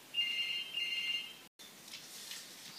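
A telephone rings with a steady electronic trill in two bursts, a short gap, then a fainter warbling tone, fairly quiet and alone without talk.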